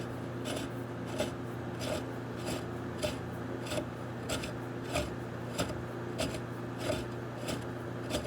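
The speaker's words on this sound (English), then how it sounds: "I'm just gonna use this drill bit and make it a little bit bigger. I'm just gonna do it by hand." A drill bit is twisted by hand to widen holes in a DIY LP-style guitar kit, giving a steady rhythmic scraping and rasping, about two strokes per second, close and fairly quiet over a constant background hum.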